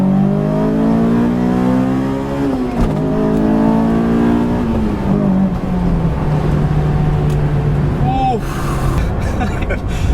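A 2004 Honda S2000 (AP2) engine revs hard toward 8,000 RPM during a test drive, its pitch climbing loudly, easing off and then settling into a lower, steady drone, with occasional voices around it.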